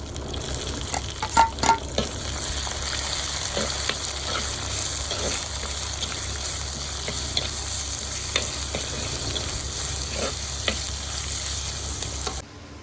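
Chopped onions frying in a pan for a Tamil fish curry, giving a continuous close sizzle with a few stirring clatters near the start, heard alone without talk.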